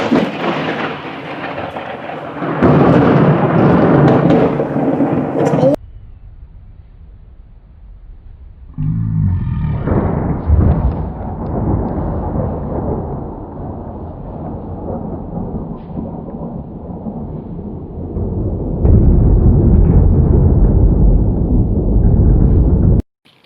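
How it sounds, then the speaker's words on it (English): Thunder from a very close lightning strike during a storm: loud crashing bursts and a deep rumbling roll that surges, drops away, then swells again near the end, with no voices. "Bang. Crash. Wallop. Yep. What a storm that was."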